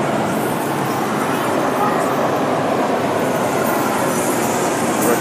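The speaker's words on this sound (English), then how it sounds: "A coal train here" A BNSF coal train running on a model railway layout at the Chicago Museum of Science and Industry, a steady loud rolling rumble of wheels and track that stays even throughout, with crowd chatter mixed in.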